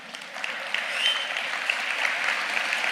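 An audience applauding at a motivational speech, dense steady clapping from a crowd sustained throughout, fairly close and even in loudness.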